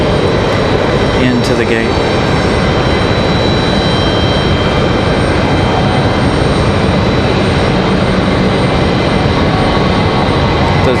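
An Air France jet with big GE90 engines taxis toward the gate at Raleigh-Durham airport, a loud, continuous jet roar and whine that fills the scene while a person talks briefly over it.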